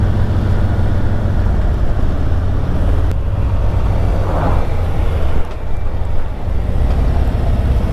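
A car with a Stage II performance kit roars steadily as it accelerates in second gear alongside another vehicle, the engine drone loud and constant under heavy wind buffeting.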